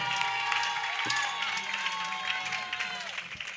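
A crowd at an evangelical church crusade in Côte d'Ivoire claps and cheers steadily, the applause filling the space alongside a preacher's voice speaking over it.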